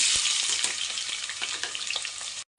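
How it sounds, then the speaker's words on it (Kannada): Onions go into hot oil already fried with cardamom, for chicken biryani, and fry in a loud, dense, close sizzle with light crackling and stirring scrapes, unbroken by speech until it cuts off just before the end. "ಈಗ ಈರುಳ್ಳಿ ಹಾಕೋತಾ ಇದ್ದೀನಿ"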